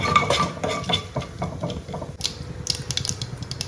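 Mustard seeds, urad dal and chana dal frying in about two spoons of oil for a poori potato masala, close clinking and scraping of a metal spoon against the pan over light popping.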